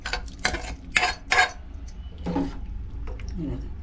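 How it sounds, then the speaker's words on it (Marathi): Cooked vegetables poured into a pot of South Indian sambar and stirred: a series of clattering metal clanks and scrapes from a spoon against the pot, followed by softer sloshing and stirring. "आता हे ढवळून घेते आणि हे भाज्या ओतते मी."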